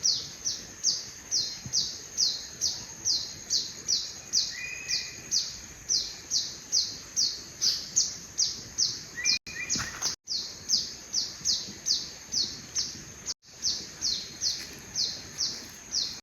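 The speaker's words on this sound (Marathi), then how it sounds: "पक्ष्यांचा आवाज बघा इकडं" Birds calling steadily in a forest beside a river, a rapid series of bright repeated chirps running through the whole stretch with brief breaks, fairly close and clear over quiet background, with no talking.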